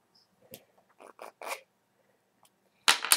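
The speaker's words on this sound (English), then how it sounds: "Now, I'm going to zip her up." A zipper on a plush Wuggle Pets toy is pulled in several short scratchy bursts, then one longer, louder zip at the end, close and quiet in between.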